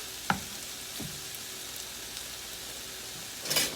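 Bulk sausage frying in a pan, a quiet steady sizzle broken by a few scraping stirs from a spoon, heard close and without talk.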